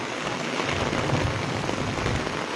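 Steady morning rain falls in Palampur as a dense, even hiss of drops on surfaces, loud and close, with no breaks or voices.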